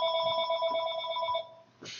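Cell phone ringing with an incoming call, a steady electronic ringtone with bright sustained tones that cuts off abruptly, under faint quiet talk.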